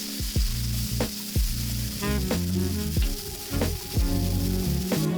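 Mushrooms brown in a pan over high heat, a steady loud sizzle and crackle close up, with occasional stirring scrapes and no talk.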